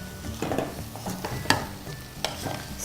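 Mushrooms frying in a pan with masala spices are stirred, a low sizzle under repeated scraping strokes and a few sharp clacks of the spoon against the pan.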